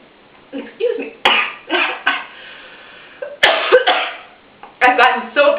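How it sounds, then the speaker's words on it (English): Several sharp coughs and throat-clearing bursts, close and loud, separated by short pauses. "I've gotten so upset about the baby that I've started coughing."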